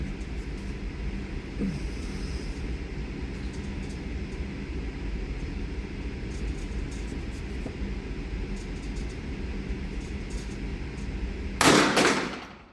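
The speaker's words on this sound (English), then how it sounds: "It fired both rounds. It went full auto on me." A Dreyse Model 1907 pistol lets off two rounds in a single quick full-auto burst, a sharp, loud crack near the end that follows a long stretch of quiet background.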